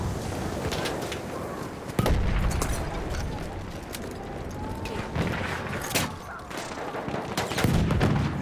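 A grenade blast sounds in the battlefield game Battlefield 1 during a Conquest match on Verdun Heights. Sharp booms go off amid a dense, loud din of continuous gunfire and distant explosions, with shouted voices in French mixed in.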